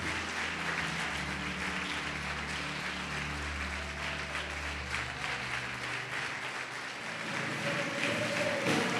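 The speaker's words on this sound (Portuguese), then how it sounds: "Pode aplaudir e glorificar Jesus por isso." A church congregation applauding at a large evangelical gathering, the steady clapping layered over sustained low organ or keyboard chords that shift slightly near the end.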